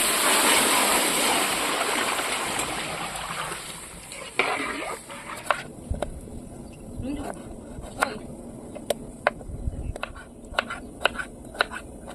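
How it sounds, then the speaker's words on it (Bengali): Water is poured into a pan of fried moong dal, giving a loud rushing hiss that fades over several seconds, followed by scattered clinks and soft stirring knocks. "ডালটা সুন্দর করে ভাজা হয়ে গেছে জল দিয়ে দিচ্ছি"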